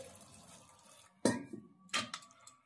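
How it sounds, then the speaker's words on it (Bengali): A little water is poured into a pot of soaked lentils: two short, quiet splashes with light clinks of the vessel in a still kitchen. "একটু জল দিচ্ছি"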